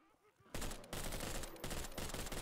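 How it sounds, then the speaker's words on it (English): A submachine gun in Garry's Mod during a zombie apocalypse game opens up in a loud, dense burst of rapid automatic fire that runs almost continuously after a brief quiet moment of speech. "Ah, my little uh, submachine gun."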